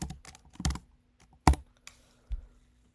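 Keys clatter on a computer keyboard in a makerspace as a name is typed, a few quick bursts of close, crisp taps separated by short pauses, with no voices.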